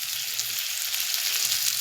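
Taro pieces frying in mustard oil while being stirred in a pan, a steady close crackling sizzle with faint scraping of the stirring, no talking.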